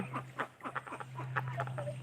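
Domestic laying ducks quack in short, repeated bursts near a deep pond, fairly close, over a steady low electrical hum.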